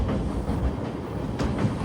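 Rameswaram to Mangaluru Express train crossing a high bridge, a steady rumbling roll with faint rhythmic clatter of wheels heard from inside the carriage, no voices.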